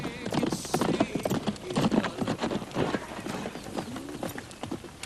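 Horse hooves clip-clop in a quick, uneven rhythm of sharp knocks, close and fairly loud throughout, with voices faintly mixed in beneath the steps.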